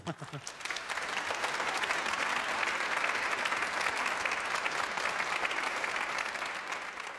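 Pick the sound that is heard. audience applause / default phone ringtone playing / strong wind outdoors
audience applause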